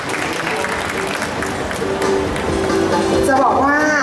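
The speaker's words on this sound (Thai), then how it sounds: "ขอเสียงปรบมือด้วยค่ะ" An audience at a university open house event claps in a steady wash of applause, heard from fairly close while a voice speaks over it.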